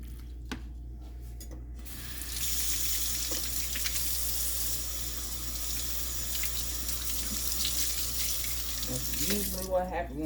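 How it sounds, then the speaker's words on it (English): A kitchen tap runs steadily in a home kitchen while beef stew is being cooked, a close hissing stream that swells after a couple of seconds, with brief clinks near the end. "keep the water on because I got my vegetables"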